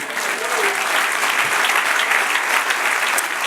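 A church congregation applauds the Lord during a Spanish-language sermon, with steady, dense clapping close by that fills the whole stretch at an even loudness and has no talk over it.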